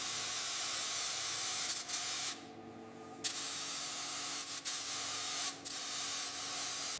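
A spray gun lays base coat onto the sanded bare-metal body of a 1928 Isotta Fraschini 8A, a loud, close, continuous hiss broken by a few brief pauses where the trigger releases.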